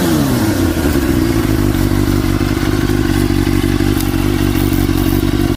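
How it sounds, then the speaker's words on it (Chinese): A Suzuki GSX-R600 sport motorcycle with a four-cylinder engine roars loudly and close, its revs rising and then holding at a high, steady pitch with a little mechanical clatter before cutting off abruptly at the end. "大家听一下这一代发动机声浪。"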